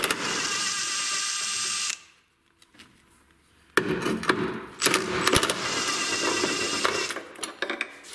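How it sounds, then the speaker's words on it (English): A power tool whirs loudly while unbolting exhaust silencer bolts on a VW Golf 6, running in two bursts separated by a short quiet gap filled with faint clinks of metal and socket handling. "next unbolt two bolts"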